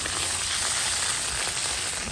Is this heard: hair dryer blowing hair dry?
no